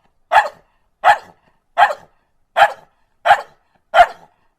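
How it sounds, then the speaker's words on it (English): A dog barks six times in an even, steady rhythm, each bark short, loud and close, with silence between them. "barking dogs."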